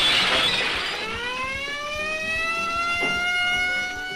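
A house alarm in a film wails with a steady electronic siren tone, loud and continuous, slowly rising and falling in pitch with no voices over it.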